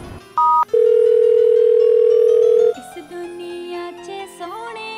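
A mobile phone call rings: two short beeps, then a long, loud, steady tone, followed by softer electronic tones.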